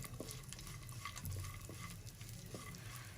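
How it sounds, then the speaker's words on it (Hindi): Cashews fry in a pan for suji halwa, a soft, close sizzle broken by occasional light stirring scrapes, with no talking. "25 ग्राम काजू हैं। ये डालेंगे। इनको 1 मिनट तक फ्राई करेंगे"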